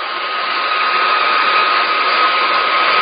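A heat gun blows steadily while heating a Kydex holster flange for bending, a loud, even airy roar that holds without a break for the whole stretch, close by and with no talk over it.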